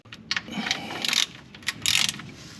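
A hand ratchet fitted with a 16 mm socket works the oil drain plug of a Ford F350 pickup: short bursts of quick metallic clicking in uneven spurts, close up, with no voices.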